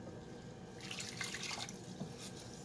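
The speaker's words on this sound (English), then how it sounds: "And then I'm going to add 1 cup of water." A cup of water pours into a sweet and sour sauce mixture, a faint, close splashing trickle that rises and lasts a couple of seconds.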